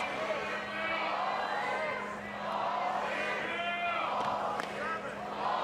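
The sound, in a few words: softball crowd chanting the ball count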